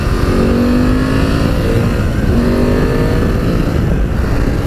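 BMW F750GS motorcycle, a 2018 model, with its engine revving steadily while being ridden, a continuous loud drone mixed with wind rush and no voices.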